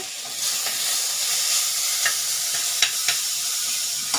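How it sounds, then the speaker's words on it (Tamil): Chopped tomatoes sauté in a hot pan for a bitter gourd masala, giving a steady close sizzle and hiss with a few brief stirring clicks and no talking. "இப்போ நம்ம பொடிசாக கட் பண்ணி ரெண்டு தக்காளி போட்டுடலாங்க"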